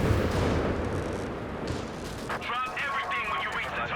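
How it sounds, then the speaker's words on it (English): Carpet bombing and explosions in the Company of Heroes 3 winter map battle, a rumbling barrage of booms that fades into crackling blasts and whistling effects, with a commentator talking over it. "It looks like we've also got a carpet bomb coming in"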